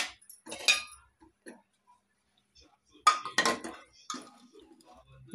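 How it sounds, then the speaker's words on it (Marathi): A pressure cooker holding mutton curry is opened, with the lid and utensils clinking in short bursts separated by quiet gaps, and some close clatter near the end. "आता मी कुकर उघडून बघते।"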